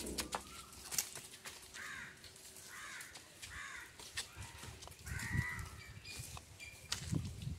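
Pigeons coo in soft repeated phrases alongside occasional crow caws, with several birds perched together close by and sounding steadily over a faint outdoor background, without talk.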